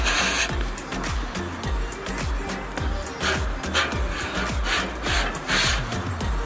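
A metal scraper grinds and scrapes steadily across the flat top of a Blackstone griddle to clear off burnt cooking residue, in a continuous rough rasping texture with repeated strokes.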